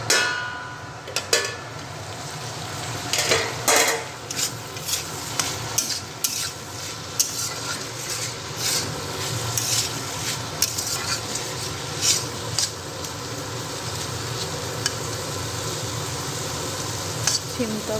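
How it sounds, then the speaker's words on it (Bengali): Broad beans with potato fry and hiss in a pan while a spatula scrapes and clinks against the metal, sharp scraping bursts over a steady sizzle. "আমি আবার সিম ভাজাটা দেখে নেব।"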